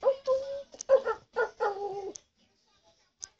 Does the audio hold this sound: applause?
no